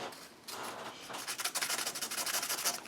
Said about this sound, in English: So we'll go in there and sand.